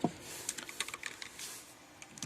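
Quick keystrokes on a computer keyboard entering the Alt+equals shortcut in Excel, a short run of light, close clicks following a louder thump at the start.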